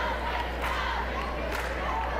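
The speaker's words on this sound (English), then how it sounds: "looks like the cheer box getting pretty pumped up down there with their cheers" A high school basketball cheer section cheers and chants in the stands at an Indiana sectional tournament game. The crowd noise holds steady and fairly loud throughout, with no clear single voice standing out.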